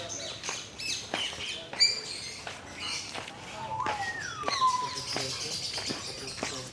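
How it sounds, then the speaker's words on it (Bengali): Many birds, mostly parrots, chirp and call inside an aviary at Gazipur Safari Park, with scattered sharp chirps and a few whistled calls over a soft, busy background. "অনেকগুলো পাখি আছে।"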